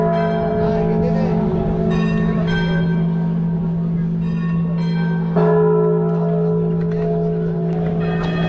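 Church bells ring steadily and loudly in San Miguel de Allende, Mexico, with sustained tolling tones layered over each other and a faint murmur of crowd and street life beneath.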